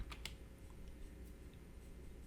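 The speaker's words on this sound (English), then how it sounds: "I would type in 4 on my keyboard" A few faint clicks of keys on a computer keyboard at the start, then a quiet steady room hum, soft and distant with no voices.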